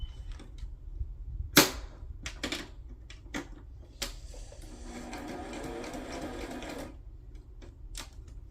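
A sewing machine runs a straight stitch through sari silk to form a loose ruffle, one steady whirring burst of about two seconds between sharp clicks and handling taps, with no voices.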